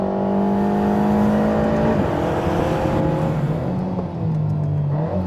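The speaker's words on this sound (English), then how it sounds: "You cannot drive a regular A110 or R anywhere near as hard as that on a track." Alpine A110 R Ultime driven hard on a racetrack, its engine note steady and loud at high revs with a slight pitch shift through gear changes, close-up from onboard with no talk.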